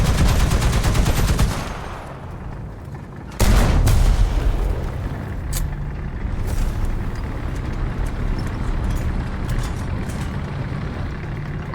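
Heavy gunfire in War Thunder tank combat, a loud dense volley of shots and booms opening the scene, then a second sharp blast around four seconds, followed by sustained rumbling battle noise.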